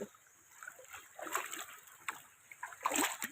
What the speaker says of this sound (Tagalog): Ayan ang ilog.